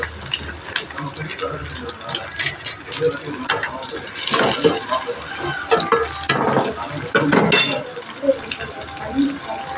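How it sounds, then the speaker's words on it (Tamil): Small shallots and cumin seeds are stirred and sizzling in a pan for a carrot poriyal. A spoon scrapes and clatters unevenly over a steady fry, close up. "சின்ன வெங்காயம் போட்டு கொஞ்சம் கிண்டிக்குவோம் அடுத்து கொஞ்சமாக சீரகம்"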